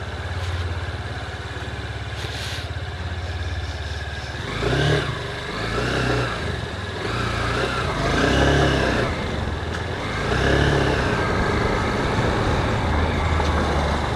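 An NX200 motorcycle engine runs close by, its low throb rising in several revving swells over a steady idle, with no voices.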